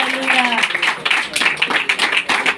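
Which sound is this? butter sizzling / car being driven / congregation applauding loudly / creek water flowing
congregation applauding loudly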